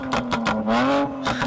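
V8 car engine with tuned exhaust and cabin sound augmentation revving hard against a soft rev limiter, a loud close, rising and falling engine drone with a sustained held rev in the middle.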